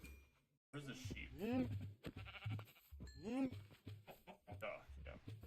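Sheep bleat in the Minecraft video game, two clear wavering bleats at close range amid game sounds and background chatter.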